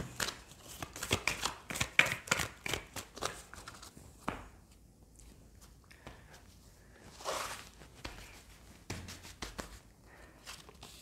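Tarot cards being shuffled by hand, a close run of quick riffling and flicking bursts, then quieter, sparser card handling after a pause.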